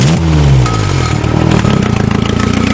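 Nissan 200SX engine revving loudly and up close through a modified exhaust with a tractor cover fitted over the muffler, the pitch sliding down at first and then pulsing in quick rev bursts.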